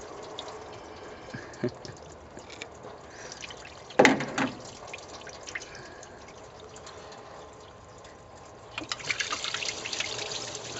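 Engine coolant spills and dribbles from the thermostat housing of a 1998 Ford Escort ZX2 once the thermostat is popped out, heard as a sudden splash followed by a thin trickle, then later a renewed steadier pouring, close and fairly quiet.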